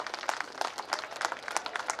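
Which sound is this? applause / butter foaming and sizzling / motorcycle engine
applause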